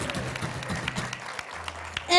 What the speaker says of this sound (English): Huge clapping.